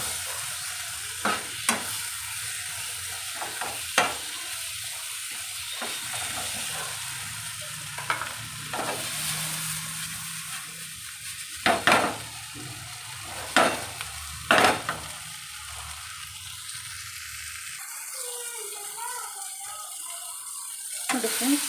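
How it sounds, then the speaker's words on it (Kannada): Tomato chutney ingredients with tamarind fry and sizzle steadily in a pan on a stove, with a spoon scraping and clacking against the pan at irregular intervals. No one speaks. "ಎಲ್ಲನೂ ಚೆನ್ನಾಗಿ ಫ್ರೈ ಮಾಡ್ಕೋಬೇಕು."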